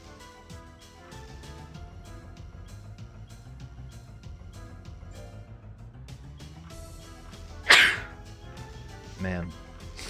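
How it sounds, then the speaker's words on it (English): A single sharp sneeze from a person bursts out near the end, after a stretch of low background sound with music or talk running underneath. "sneezing and got a sore throat"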